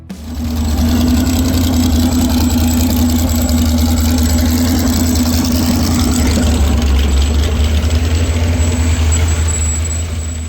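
A 460 big block V8 in a 1970s jet boat runs at a steady idle, a loud, continuous low rumble with an even throb that holds unbroken for about ten seconds.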